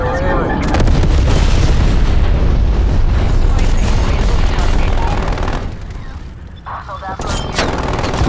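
A napalm strike in Call of Duty: Black Ops Cold War multiplayer hits as loud, dense, rumbling blasts. Booming continues for several seconds, briefly dips, then swells again.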